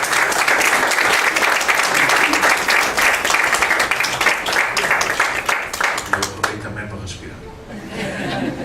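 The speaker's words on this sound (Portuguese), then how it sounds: "Podiam bater palmas agora." Audience applauding at a book launch in Lisbon, held at a Cape Verdean association: dense, loud clapping that goes on steadily, with a few chuckles mixed in, then thins and fades near the end.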